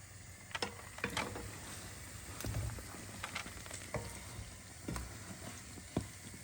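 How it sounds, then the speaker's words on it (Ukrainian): Belyashi, meat-filled dough patties, sizzle in an uncovered frying pan over medium heat, a steady close crackle with scattered sharp pops and spits throughout. "Вони так гарненько смажаться"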